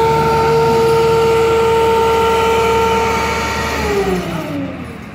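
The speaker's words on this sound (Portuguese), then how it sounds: "os caras estão vendo que tá fechado e passa a moto pelo meio aqui, ó" A motorcycle rides through a road closure on a São Paulo street at night. Its engine is loud and close, holding a steady drone with a whining tone that falls away as it passes, with no talk over it.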